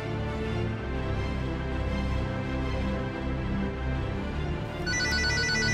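A phone ringtone plays for an outgoing call, a melodic tone repeating steadily and close by with no talk, then shifting to a brighter pattern near the end.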